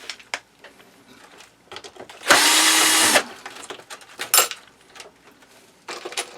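A power drill in a workshop whirs loudly in one short burst of under a second while a plastic device is taken apart, surrounded by quieter clicks, taps and handling noises.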